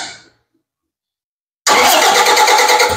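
A Kubota engine in a Lugong truck cranks and starts abruptly after a short silence, then runs loud and close at a steady idle.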